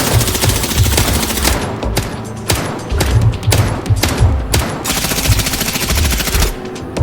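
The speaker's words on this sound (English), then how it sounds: "He fires 30 shots and then reloads" Rapid bursts of gunfire and pistol shots from a zombie shooter video game advert, loud close volleys broken by short pauses, repeating across the stretch with no talk.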